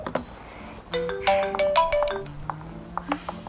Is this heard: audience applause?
no